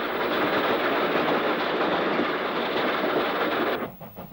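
A steam-hauled railtour train rolls along the line near Weymouth just after leaving a tunnel, a steady close rumble with rhythmic rail clatter that cuts off sharply near the end.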